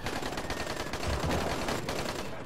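Sustained automatic gunfire in a Dying Light gunfight, a dense continuous rattle of rapid shots filling the whole stretch, loud and close with no talking over it.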